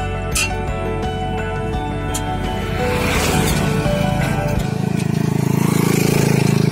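A tractor fitted with a rotary tiller works a rice paddy, its engine droning steadily and nearby, rising in loudness partway through, with a low voice heard briefly over it.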